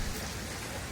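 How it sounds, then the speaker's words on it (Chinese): Steady rain falling in a hot spring town, a dense even hiss of drops that holds at the same level throughout the short moment with no voices. "也开始下雨了。"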